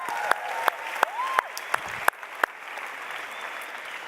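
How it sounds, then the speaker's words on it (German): A sparse handful of separate handclaps from an audience welcoming Rich, about seven sharp, spaced claps fading out after a couple of seconds. "Give it up for Rich. Gebt ihm einen Applaus."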